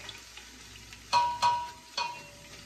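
One kilo of garlic toasts in a pan, giving a soft background sizzle broken by three sharp scraping stirs close by.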